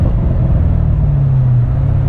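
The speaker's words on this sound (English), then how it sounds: "There's a lot of traffic." Low, steady road rumble from inside a 2016 Chevrolet Corvette C7 Stingray cruising on a busy highway, a loud, continuous drone with no distinct passing cars.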